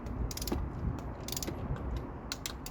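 A torque wrench ratcheting on a small 7 lb-ft thermostat housing bolt on a Mazda MX-5 Miata NC engine, quick clusters of sharp metallic clicks in short bursts close by over a low background rumble.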